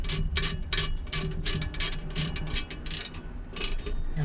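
Steering wheel bolts on a 1971 Dodge Challenger R/T being tightened with a ratchet, giving rapid bursts of close, metallic clicking in a steady rhythm, with no one talking.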